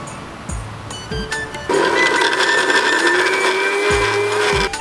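A mixer grinder grinding green chili and tomato chutney whirs loudly in short bursts, then runs steadily at full speed, its motor whine rising and holding close by.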